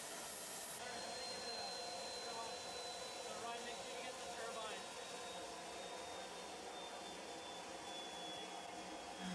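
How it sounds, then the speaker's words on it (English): A homemade propane-fuelled jet engine runs steadily after start-up, giving a continuous loud roar with a faint high whine, unbroken and without speech for the whole stretch. "While we watch some of this footage of the jet engine running"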